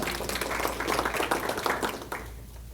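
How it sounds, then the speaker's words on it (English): Room of attendees at a live real estate event in Sacramento applauding, a broad wash of many hands clapping, fairly loud and steady before tapering slightly near the end. "Give them a round of applause for real."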